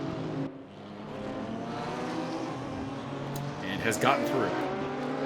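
Race cars at Bathurst, a BMW among them, with engines droning steadily and a car passing close by near the end, all under continuous commentary.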